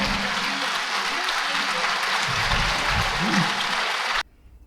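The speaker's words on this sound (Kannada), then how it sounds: "ಜೋರಾದ ಚಪ್ಪಾಳೆ." Loud applause from a standing audience cheering children at a spiritual talk event, continuous dense clapping with some low voices and background sound mixed in, ending abruptly near the close.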